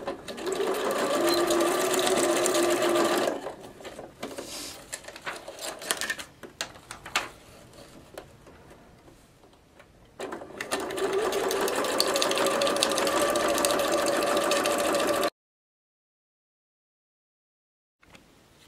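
A sewing machine running a straight stitch through paper card letters, a loud rapid mechanical whir in bursts with pauses and quieter clicks between runs, ending in silence.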